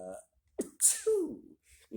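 A single loud sneeze with a sharp burst and trailing vocal tail, heard close up with a brief voiced sound before and after.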